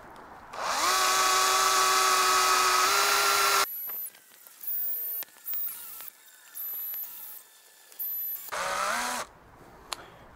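A power drill with a 2.5 HSS bit bores a pilot hole in an MG TF subframe. A steady high whine runs for about three seconds, followed by a string of shorter squealing bursts as the bit bites.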